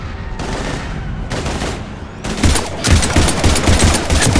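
Loud automatic gunfire in the video game Mass Effect 3: two short rapid bursts, then heavier sustained firing with several weapons rattling at once at close range.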